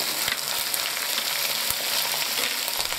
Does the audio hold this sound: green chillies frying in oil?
yes